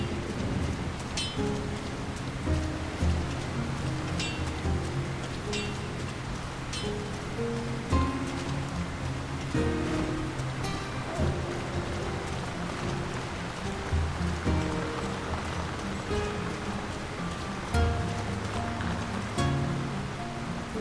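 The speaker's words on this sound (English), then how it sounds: "Who could live in a town where it's always raining?" Steady rain falls on a town in The Lord of the Rings: War in the North, a continuous wash of drops with faint scattered clicks and a low ambient hum, spreading evenly throughout.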